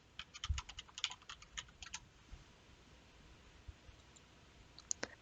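Quick bursts of keystrokes on a computer keyboard as a drug name is typed into a web drug-interaction checker, crisp clicks clustered in the first two seconds, then quiet room tone with a final pair of taps near the end.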